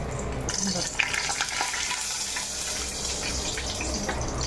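Whole spices (cinnamon stick, garam masala flower, cloves and a chilli) crackling in hot oil for mutton chilli, a continuous close sizzle with soft stirring scrapes.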